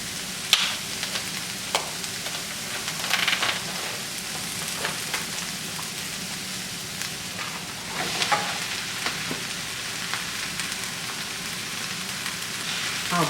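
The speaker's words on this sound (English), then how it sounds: "So now I'll place this in my frying pan." Just over two pounds of 93% lean ground beef sizzles in a frying pan with a steady, close crackle, broken now and then by sharper clicks and scrapes of stirring.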